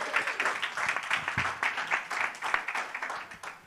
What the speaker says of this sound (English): Give him a round of applause for that.